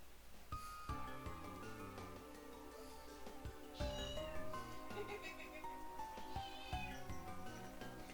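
A cat meows faintly at home, brief calls and a drawn-out caterwaul heard beneath loud retro video game music.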